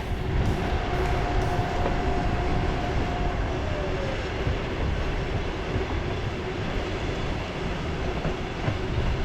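A train rumbles past steadily at close range, a broad continuous roar with a faint high wheel squeal fading out partway through.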